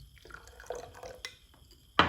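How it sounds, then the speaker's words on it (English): Water goes into a container during a chemistry experiment on metals and non-metals: faint scattered drips and trickles, then a louder, brief splash of pouring right at the end. "Put some water in"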